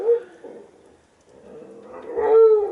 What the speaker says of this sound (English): A dog started to bark and yeah, they wake me up.